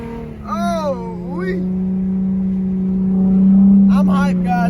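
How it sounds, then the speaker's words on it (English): Nissan G35 drift car with a burnt clutch, its engine droning steadily and swelling louder toward the end, while someone talks excitedly over it in bursts. "I'm driving my damn drift car and I'm filming YouTube videos."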